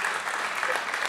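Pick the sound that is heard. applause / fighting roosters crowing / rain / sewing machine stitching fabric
applause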